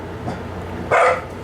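A little Jack Russell terrier gives one short, loud bark near the microphone, rising sharply above a steady low background hum.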